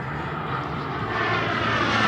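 Propeller airplanes at an airshow sweeping past together, a steady loud engine drone that swells slightly as they approach, with no talk.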